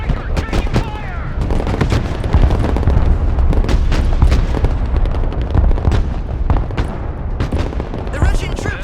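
Dense battlefield gunfire in the Broken Arrow war video game, loud continuous bursts of rifle and machine-gun shots mixed with heavy booms and explosions, with radio-style voices speaking over the combat.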